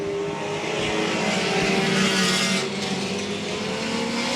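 Sport compact race cars racing at Evans Mills Raceway during a Thunderstock feature: a continuous loud roar of engines droning at steady pitch, with a brief swell as cars pass close, no talking.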